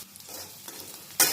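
Garlic being sautéed and stirred in a pan of shallow oil gives a soft, low sizzle with faint scraping, ending in a sudden louder burst of hissing near the close.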